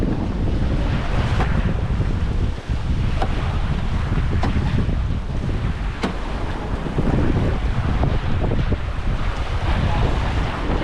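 Strong gusty monsoon wind roars continuously into the microphone during a typhoon, with rushing water and waves beneath and occasional knocks; no clear speech.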